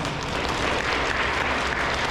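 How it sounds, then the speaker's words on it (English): An audience at an elementary school awards ceremony claps steadily, a dense, even wash of applause from many hands filling the room without pause and without talk. "Let's give them a round of applause."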